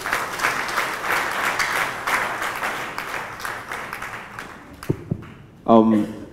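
Symposium audience applauding in a steady, dense wash of clapping that gradually thins out, followed by a few isolated claps and a brief burst of a voice speaking at the end.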